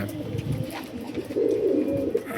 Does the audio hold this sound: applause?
no